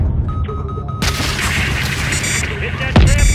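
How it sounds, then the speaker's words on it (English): In a Call of Duty: Modern Warfare III campaign mission, a missile strikes a SAM site with a sudden loud rush and rumble, then a heavy deep impact near the end, with radio chatter in the background. "Gunner, drop a missile on that SAM site"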